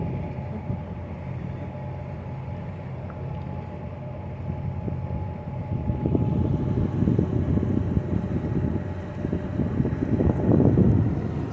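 A tour boat on the Wisconsin River at Wisconsin Dells, driven by twin 350 cubic inch General Motors gasoline V8 engines of 265 horsepower each, cruises with a steady low rumble and wind buffeting the microphone, growing louder toward the end.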